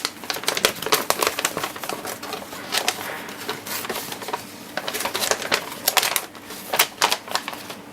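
A paper fold-out guide from a Magic the Gathering 2014 Core Set Deck Builder's Toolkit is unfolded and handled, making close, busy crinkles with sharp tapping clicks and short rustling bursts throughout.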